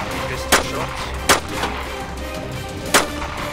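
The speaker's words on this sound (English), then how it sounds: "Pistol shots." Three sharp pistol shots ring out in the survival game DayZ Standalone, spaced unevenly over steady ambient game noise.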